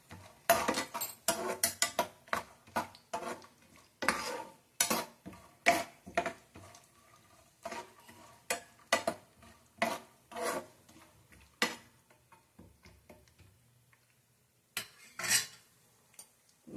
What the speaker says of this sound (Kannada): ಇಷ್ಟು ಹಾಕೊಂಡು ಚೆನ್ನಾಗಿ ಫ್ರೈ ಮಾಡ್ಕೊಬೇಕು.